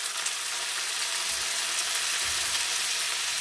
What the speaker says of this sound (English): so our almonds have been simmering for a while